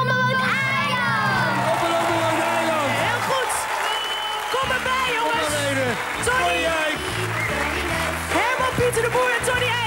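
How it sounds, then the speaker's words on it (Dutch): A studio audience at a song show claps and cheers for the winning young singers, dense loud applause with whoops and children shouting, mixed under bright upbeat music and a presenter talking. "Geef ze een applaus"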